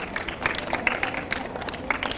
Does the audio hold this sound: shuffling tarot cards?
no